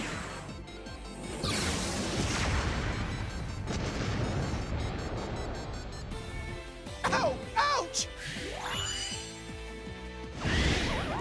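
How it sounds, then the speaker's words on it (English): A magic tech laser fires in World of Final Fantasy, a sustained roaring blast with crashing impacts followed by sweeping whooshes and a final burst, with voices speaking over parts of it. "Magic tech laser. Ready to fire."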